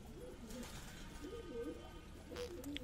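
A pigeon perched on a rooftop gives soft, repeated low cooing, fairly close, over a steady background hum.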